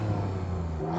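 An Alfa Romeo Stelvio Quadrifoglio's Italian engine revs hard through an Akrapovic exhaust, a deep steady roar with rising harmonic tones, close and continuous with no talking.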